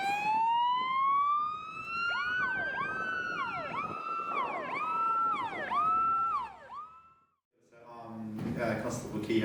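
Ambulance and police sirens respond to a single-car crash in Timaru, South Canterbury, wailing in loud, repeated rising and falling sweeps. A brief lull follows, then a burst of rough noise.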